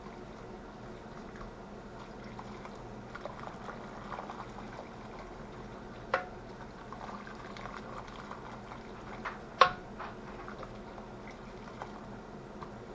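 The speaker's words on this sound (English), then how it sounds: "I have them going on the stove right now" A pot of homemade egg noodles, a pound of them, boils on a stove, giving a low steady bubbling simmer with faint clinks and one or two sharp knocks from the kitchen.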